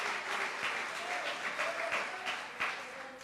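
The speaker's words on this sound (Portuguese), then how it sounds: "Dê uma salva de palmas ao Senhor." A church congregation claps in praise during a sermon, a fairly soft, continuous patter of many hands with faint sustained tones beneath, rising and falling gently.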